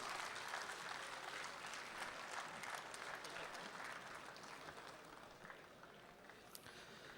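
Audience applause fills the hall at a Republic Day kavi sammelan and mushaira in Dubai, a dense, sustained clapping heard from within the crowd that slowly eases in intensity.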